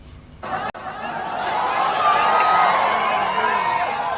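Large crowd at a political rally for Tejasvi Yadav, a dense continuous roar of many voices swelling after a brief break near the start and holding loud and steady throughout.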